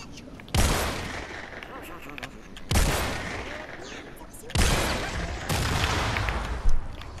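Fortnite Save the World video game gunfire arrives in loud bursts of rapid shots, four separate volleys with short gaps between them, the last ending in a sharper blast, close and dense.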